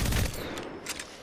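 Devotion energy light machine gun from Apex Legends fires a brief rapid burst, a short dense rattle of shots up close that trails off within about a second.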